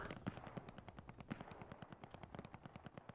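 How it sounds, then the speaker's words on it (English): Rapid machine-gun bursts in a video game battle, as a gun pummels a building, a steady near rhythm of sharp repeated shots lasting the whole stretch with no talk. "MG's pummeling the building in the north"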